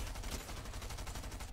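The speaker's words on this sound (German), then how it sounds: "Da hinten schießen auch noch welche, ja." Rapid gunfire crackles continuously in a video game firefight, a dense stream of shots with faint bursts in the background and no talking.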